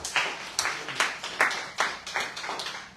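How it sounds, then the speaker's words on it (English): A small group claps in a slow, even rhythm, about eight distinct sharp claps spread across three seconds, fairly faint and alone, in recognition of an athletics result. "give him a round of applause"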